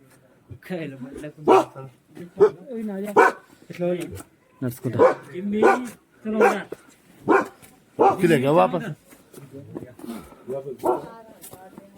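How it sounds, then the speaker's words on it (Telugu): Several dogs bark, yip and growl in quick bursts as they fight nearby in Mana village near Badrinath, mixed with voices of people speaking close by. "కుక్కలు కొట్లాట"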